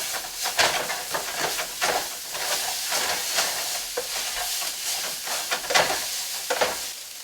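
Ramen noodles frying in a pan with onion and bacon, a steady close sizzle with repeated scraping stir strokes throughout, no voices.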